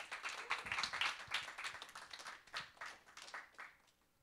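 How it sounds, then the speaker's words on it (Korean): An audience at a STEPx youth conference in Gwangju applauds to welcome a speaker: a fairly quiet patter of many hands, uneven and bursty, thinning out toward the end. "홍만희 군을 큰 박수로 환영해 주세요"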